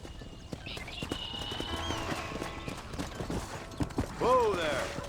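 Horse hooves trot in a steady rhythm, joined by a horse's whinny and some creaking near the end, with a voice briefly in the mix, in the video game Red Dead Redemption.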